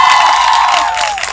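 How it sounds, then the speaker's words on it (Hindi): A university audience at a poetry gathering in Sargodha bursts into loud applause and cheering, with high whoops and shouts filling a brief, dense wash of crowd noise. "आप अपने लिए एक भरपूर ताली बजाइए"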